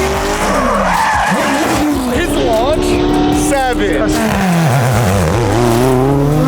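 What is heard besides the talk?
drag car burnout with tire squeal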